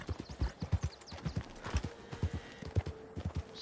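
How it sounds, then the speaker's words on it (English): Tennessee Walker horse in the video game Red Dead Redemption 2, its hooves clip-clopping in a quick, even gait, moderately close and fairly quiet. "Still with Tennessee Walker here."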